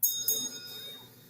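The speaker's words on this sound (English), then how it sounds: "That's one smart bell." A bright bell chimes twice in quick succession, each ring fading into a thin sustained shimmer, for a Valvoline Instant Oil Change radio ad.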